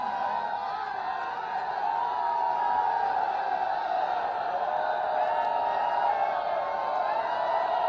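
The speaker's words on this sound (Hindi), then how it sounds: "आज हम सब कार्यकर्ता देवतुल्य जनता की ओर से जोरदार तालियों के साथ अपने यशस्वी मुख्यमंत्री का स्वागत करें" A large crowd at a political rally cheers and roars steadily to welcome the chief minister, a dense, sustained wash of voices that stays loud and even throughout without clear breaks.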